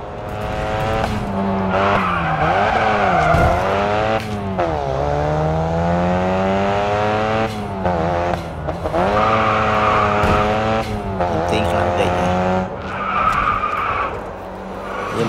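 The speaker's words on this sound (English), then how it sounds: "Follow the track tips and drift to finish the track." Drifting car in the mobile racing game Racing Master, its engine whining through shifting gears while tires squeal and skid loudly and almost continuously across the track, with no talk.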